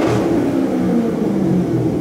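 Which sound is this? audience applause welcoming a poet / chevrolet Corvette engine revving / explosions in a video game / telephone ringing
chevrolet Corvette engine revving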